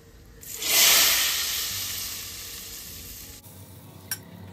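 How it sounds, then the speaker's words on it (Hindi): Hot tadka tempering is poured over pakoras, bursting into a loud sizzling hiss that peaks quickly and then fades slowly over several seconds, ending with a small clink. "लास्ट में मैंने पोर कर दिया इसमें तड़का।"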